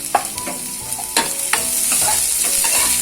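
Chopped small onion sizzles and fries steadily in a hot pan while being stirred, with occasional clinks of a spoon against the pan; no talking.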